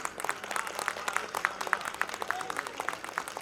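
Audience at a gathering in Shalimar Bagh claps along, a dense patter of many hands with scattered sharper claps, moderately loud and steady throughout.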